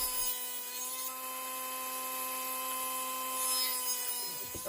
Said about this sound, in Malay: Bahagian hujung kayu dipotong menggunakan table saw untuk membentuk